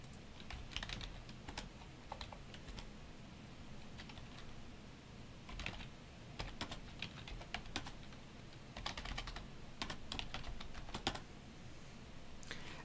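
Fingers type on a computer keyboard in quiet, uneven bursts of key clicks separated by short pauses.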